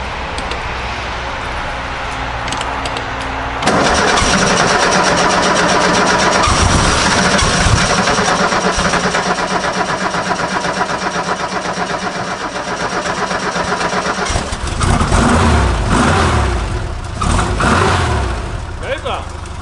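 Porsche 356 engine cranking and catching after fuel is fed to the carburettors by an auxiliary pump, settling into a loud, steady, close idle with some revving, while people talk throughout.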